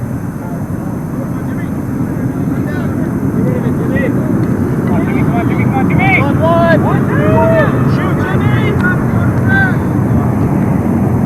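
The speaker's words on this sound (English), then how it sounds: "I assume my microphone is picking up the sound of the Jets, and they just shut their engines off." Jet aircraft engines roar loud and steady throughout, a broad continuous rush with faint higher chirping sounds layered on top.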